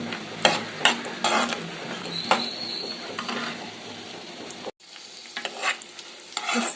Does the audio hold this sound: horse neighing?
no